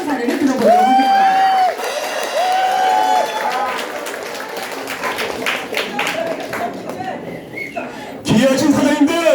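Applause and cheering from a crowd in a large Korean event hall, loud and sustained, with a presenter's amplified voice speaking over it at the start and again near the end.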